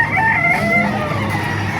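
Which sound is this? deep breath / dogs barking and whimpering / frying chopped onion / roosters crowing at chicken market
roosters crowing at chicken market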